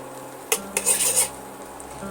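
Chopped cashews go into simmering milk in a pan, heard as a metallic clink of a spoon or utensil against the pan followed by a short burst of stirring and soft sizzle, close by.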